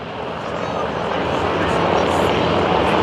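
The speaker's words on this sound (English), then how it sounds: "off to the left is a little RV-8A known as Wild Blue" A small RV-8A propeller airplane named Wild Blue performing at an airshow, its engine a steady droning buzz that grows slightly louder over a few seconds, with broad wind-like noise around it.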